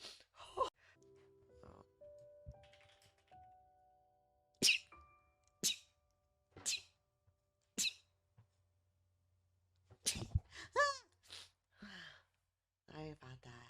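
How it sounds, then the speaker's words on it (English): Sharp, breathy sneeze-like bursts from a werelion Vtuber, repeated several times in quick succession with short gaps, close and fairly loud, followed by a rapid burst of higher-pitched chirpy vocal sounds. "Now my sneeze."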